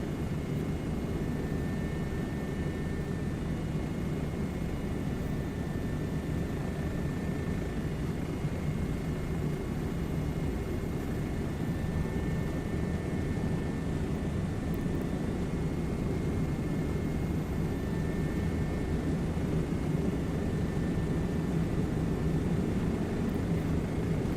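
A helicopter in a video game drones steadily as it flies, a constant low engine and rotor roar with a thin high whine above it, unchanging and with no talk.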